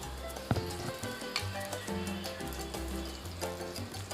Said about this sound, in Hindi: मैं सबको इसी तरीके से फ्राई करके रेडी कर लूँगी